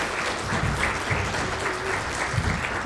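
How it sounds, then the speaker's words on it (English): Sustained audience applause at a teen mental health summit for the introduced instructors, a dense, even wash of many hands clapping throughout. "Please give them a round of applause."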